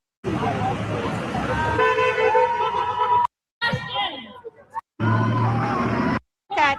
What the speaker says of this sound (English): Honk for Sebastian.